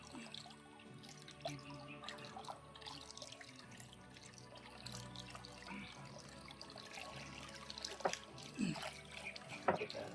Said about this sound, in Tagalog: Yung mga tauhan ni Commander Bangkil ay dito pa kumukuha ng tubig